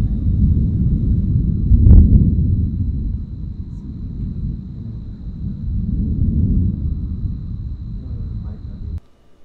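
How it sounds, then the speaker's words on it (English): Thunder rolls in a long, loud, low rumble during a storm, heard from inside the back of a Toyota 4Runner, with one heavier swell early on and then a sustained growl that cuts off abruptly. "We watched the lightning strike and just listened to the thunder roll."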